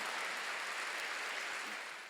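A church congregation claps during a Sunday sermon, a thick, even wash of applause from many hands that carries on steadily and tapers slightly at the end, with no voices.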